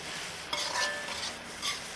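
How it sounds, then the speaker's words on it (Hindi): Okra (bhindi) fries in a pan with a soft sizzle, broken by a few scraping stirs and light clinks of a utensil against the metal, close and fairly quiet. "तो भिंडी हम यहाँ अलग से फ्राई कर रहे हैं।"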